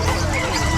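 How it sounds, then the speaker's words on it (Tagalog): Ducks quack and honk amid a busy outdoor livestock market crowd in Bocaue, their calls mixed with nearby chatter and background noise. "Mga bibe."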